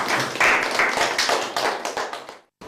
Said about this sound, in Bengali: আমরা খ দলকে সবাই হাততালি দিয়ে ধন্যবাদ জানাই